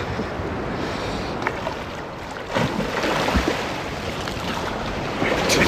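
Ocean waves on a Spanish shore, loud and close, with a continuous wash of surf and a heavier surge about halfway through, nobody speaking.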